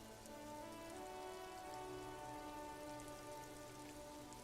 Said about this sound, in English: A silvery curtain of rain over the houses.